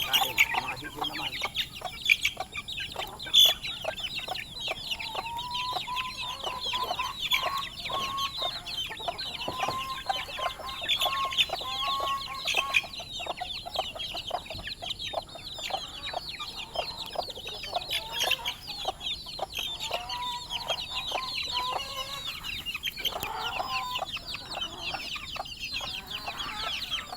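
Chickens cluck steadily over a long stretch at a farmyard, with soft repeated calls and scattered chirps mixed throughout; faint background noise.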